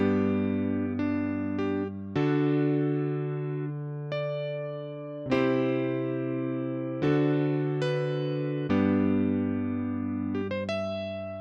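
A melody from Final Fantasy VI played over chords on a sustained electronic keyboard tone, with held notes that change in clear steps and swell at each new chord, alone with no talking.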